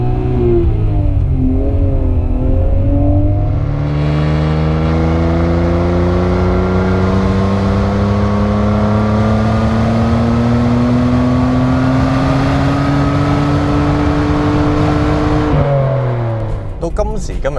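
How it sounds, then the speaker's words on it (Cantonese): A Nissan Skyline GT-R R34 V-Spec, a 1990s Japanese sports car, revving hard while driving, its engine note climbing and holding loud and close for many seconds before easing off, with a voice speaking over it. "今時今日揸翻呢啲90年代嘅當年怪獸嘅國寶級跑車啦"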